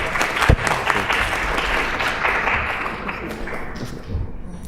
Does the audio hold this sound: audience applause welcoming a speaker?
yes